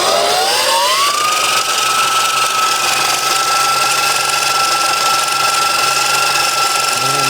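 A HiKNIGHT GTX1 mini electric dirt bike motor winds up at full throttle, a steady loud electric whine that rises in pitch during the first second and then holds at a high constant tone.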